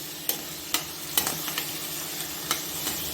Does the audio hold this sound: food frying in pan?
yes